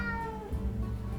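A pet cat named Tinker meows in a single drawn-out call that slides downward, close and clear over a low steady room hum.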